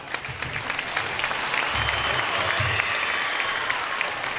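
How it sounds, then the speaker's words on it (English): A crowd in a high school gym applauds during a Hall of Fame honor at a boys basketball game, a broad steady wash of clapping with low rumbles underneath. "can we get one more round of applause?"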